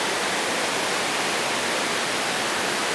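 Thác Mây waterfall in Thanh Hoá, Vietnam, a busy tourist spot, gives a constant broadband roar of falling water, loud and unbroken, with no voices heard over it.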